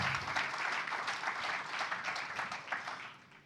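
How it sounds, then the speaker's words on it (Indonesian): A church congregation claps hard and fast during a sermon, a full, steady wash of applause from many people heard at moderate distance and lasting a few seconds. "tepuk tangan dulu yang kenceng buat Tuhan kita yang baik"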